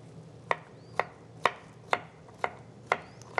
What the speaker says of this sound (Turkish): şunları biraz daha ufak ufak doğrayalım